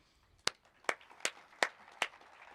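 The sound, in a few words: audience applause at awards ceremony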